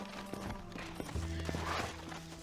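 Horse hooves clip-clop in the western video game Red Dead Redemption, a run of sharp, evenly spaced hoof knocks close by, layered with soft game tones.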